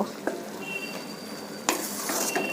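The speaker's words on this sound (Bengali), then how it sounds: "খুব সাবধানে আমি এরপর মশলা সহ খুব ভালোভাবে একটু ভাজা ভাজা করে নেব" Papaya pieces frying with spices in a pan give a steady, soft sizzle, with a couple of sharp stirring clinks and scrapes from a utensil against the pan.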